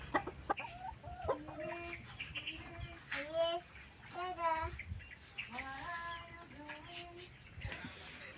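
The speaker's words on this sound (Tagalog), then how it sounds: "Ito yung mga heritage chicken mga kasaka, no?" Heritage chickens cluck and call repeatedly close by, a run of rising, pitched clucks and squawks from several birds overlapping one another, with faint farmyard background and some voice-like sounds mixed in.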